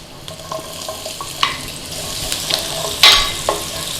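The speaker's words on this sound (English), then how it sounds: "As soon as it starts warming, in with the cumin seeds. Quick stir. In with the garlic." Cumin seeds and garlic sizzling in hot oil, a crisp, close crackle broken by sharp spits and pops, with a louder burst of sizzle near the end as a stir goes through.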